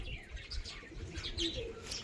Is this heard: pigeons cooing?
yes